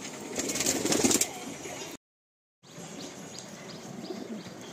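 Madrasi pigeons in a loft coo and chirp softly, with a louder burst of activity, a brief silent gap, then quieter repeated calls close by.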